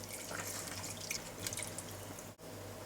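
Beef stock and tomato paste are gradually poured and stirred into a beef and mushroom stew, giving a faint, steady trickle with soft drips and small splashes, and no voices.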